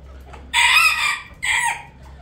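A backyard rooster lets out two loud, close crows, one long and one shorter after a brief pause, over a low steady hum with faint chicken sounds beneath.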